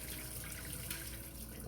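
Tap water runs steadily into a sink while rice is rinsed, a continuous gushing splash at moderate, even loudness with no talking.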